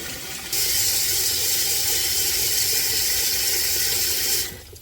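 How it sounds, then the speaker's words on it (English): Tap water runs into a large canning pot, switching on abruptly into a loud, steady hissing gush that holds evenly for about four seconds, then cuts off; no talking. "But now I'm filling the pot up with water."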